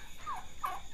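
Turkeys on a small farm give a couple of short, faint gobbles over low background noise, with no voices.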